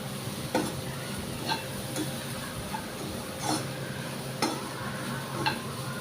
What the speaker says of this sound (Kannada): ಇದು ಕೂಡ ಒಂದು 3ರಿಂದ 4 ನಿಮಿಷ ಚೆನ್ನಾಗಿ ಫ್ರೈ ಮಾಡಿಕೊಳ್ಬೇಕು